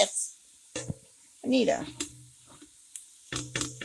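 Chili frying in a pot, with intermittent scraping stirs and soft sizzling in short bursts between pauses, while someone talks over it.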